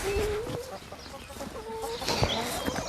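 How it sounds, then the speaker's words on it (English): Backyard chickens in an orchard garden, several hens clucking and chattering in short repeated calls, soft and moderately close, with a rustling outdoor background and no talk. "So that's the chickens."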